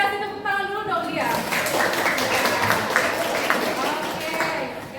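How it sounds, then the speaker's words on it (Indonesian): Students in a classroom session clap for a presenting group, a steady patter of applause that builds after a teacher speaks and continues under talking. "Kita kasih tepuk tangan dulu dong dia."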